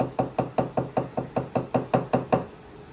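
A knife blade dipped in anti-scale coating is knocked to shed the excess: about a dozen sharp, evenly spaced knocks in a quick steady rhythm, close and loud, then quiet.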